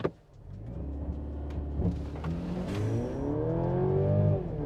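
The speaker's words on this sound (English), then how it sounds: "out on the road in the all-new GLC 300. Should we send it? Sport mode, brake torque." A 2024 Mercedes-Benz GLC 300 in sport mode launches hard from brake torque, its engine note climbing steadily through a rising rev sweep inside the cabin, loud and sustained after a brief initial thump.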